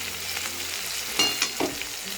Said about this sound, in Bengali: একটু নাড়িয়ে চাড়িয়ে ভেজে নেব।